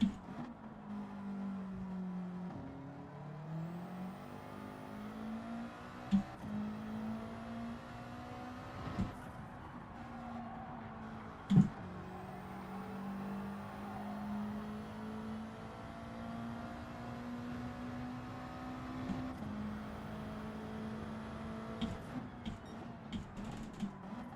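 Subaru WRX engine in Gran Turismo 7, a continuous droning hum that rises and falls with throttle, a few sharp clicks over it, no talking.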